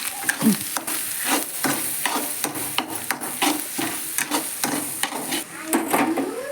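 Masala frying in oil for egg rice, with loud close sizzling throughout and regular scraping, clacking strokes of a spatula stirring in the pan, no talking.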